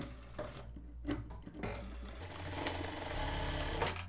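A sewing machine stitches a denim dress collar in quick, steady bursts of needle chatter, stopping and starting briefly before running continuously. It is close and clear, with no voices.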